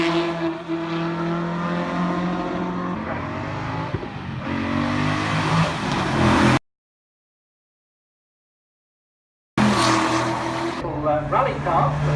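Rally cars at a World Rally Championship display during a wheels festival, engines droning and revving loudly with harmonic whine, broken by a few seconds of silence before roaring back, with talk mixed in.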